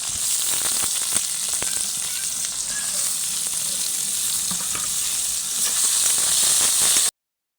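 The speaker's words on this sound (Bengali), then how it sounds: "এখন দিয়ে দেব পেঁয়াজ কুচি" Chopped onion sizzles loudly in hot oil with whole spices, bay leaves, cloves and cardamom, for a chicken bhuna; a steady crackling hiss with faint stirring runs for several seconds, then stops abruptly.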